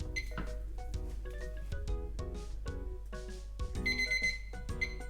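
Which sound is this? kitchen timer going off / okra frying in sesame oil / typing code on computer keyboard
kitchen timer going off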